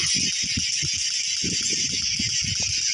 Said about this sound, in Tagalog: Lato-lato tayo guys. Napaka-ingay nito.